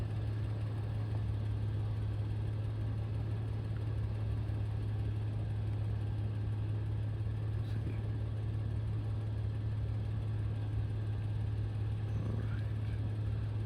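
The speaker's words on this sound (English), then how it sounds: "I'm getting drowned out by my own exhaust." A car idles with a steady, droning exhaust hum that stays constant and fairly loud throughout, close by, with faint wind noise.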